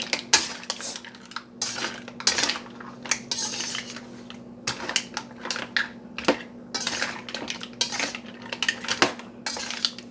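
Seafood and sauce are stirred in a metal pot, with a spoon clinking and scraping against the sides in irregular bursts over a steady low hum.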